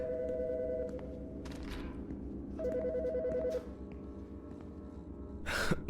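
A telephone rings in the video game Autopsy Simulator, two trilling electronic bursts spaced apart over a low ambient hum, with a breathy gasp near the end.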